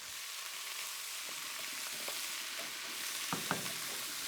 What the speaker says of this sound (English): that's sizzling away nicely